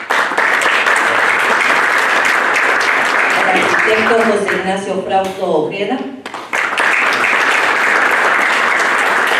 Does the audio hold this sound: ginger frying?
no